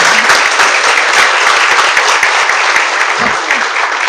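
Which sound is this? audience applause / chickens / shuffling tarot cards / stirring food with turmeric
audience applause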